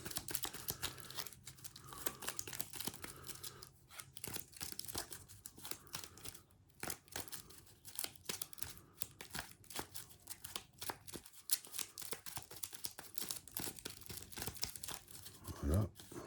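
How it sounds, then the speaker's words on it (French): Cards from the discard pile of the God of War card game are shuffled close up in a quiet room, a long run of dense papery riffling and crinkling with short pauses in between. "Je vais mélanger la défausse."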